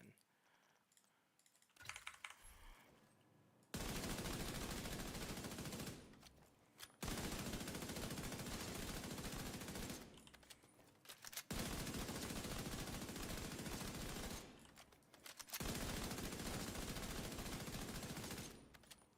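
Gunfire from a Strega in a video game: long sustained bursts of rapid automatic shots, loud and close, repeated several times with short pauses between, along with keyboard typing and clicking.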